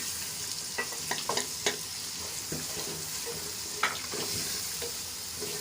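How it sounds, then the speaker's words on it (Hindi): Tomato and dry spices for chicken mooli bhujiya fry in a pan with a continuous close sizzle, broken by scattered clinks and scrapes as a spoon stirs the masala. "दस मिनट तक हम इसकी भुनाई करेंगे"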